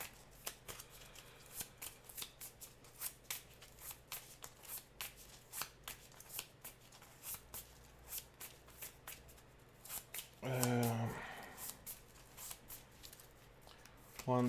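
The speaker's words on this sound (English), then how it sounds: "Which means we're gonna shuffle." Marvel Champions playing cards get shuffled in a rapid run of crisp riffling snaps, then a short louder riffle near the end, close and fairly quiet, with a voice speaking.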